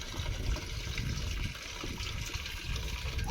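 Steady rush of water pouring from a tap, continuous and fairly close, with no voices over it.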